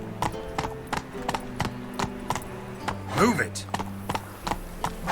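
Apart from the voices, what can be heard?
horse trotting in the video game The Witcher 3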